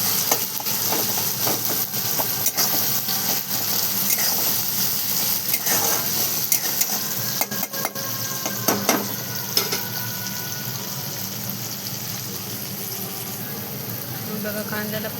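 Onion and salt fry in a pan, giving a soft, steady sizzle and hiss with scattered clinks of stirring.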